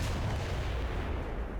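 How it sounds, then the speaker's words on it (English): A Brummbar tank cannon fires in the War Thunder video game, a single heavy, booming blast whose rumbling roar slowly decays over the short stretch. "There it is. This is the cannon."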